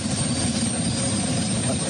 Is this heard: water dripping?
no